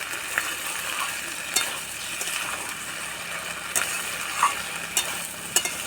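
Fried fish pieces and boiled taro stolons sizzle in a pan while being stirred, a steady close frying hiss with occasional sharp clicks of the spatula against the metal.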